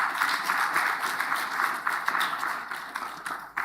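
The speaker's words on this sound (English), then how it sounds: "I think Prof deserves another round of applause." Audience at an agricultural science conference session applauds in a steady, fairly soft wash of many hands clapping, tapering slightly toward the end.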